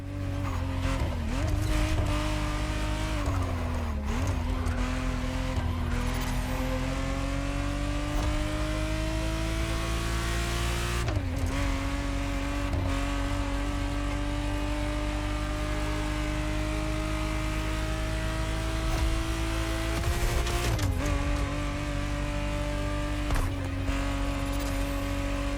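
Ferrari Testarossa 512 TR, the 1991 re-engineered version, in the racing game The Crew Motorfest: a loud, continuous engine drone rising in pitch through the gears, with sharp shift drops and some tire squeal, no talking.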